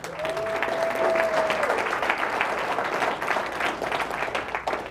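Applause from the audience at a county State of the County address, a full, steady crowd of clapping hands lasting several seconds, with a faint tonal hum early on and no speech over it.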